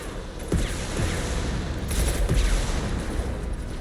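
Gunfire in the video game Mass Effect 2 comes as a rapid fusillade of repeated shots and booms, with a few sharper bursts standing out over a dense, continuous battle din.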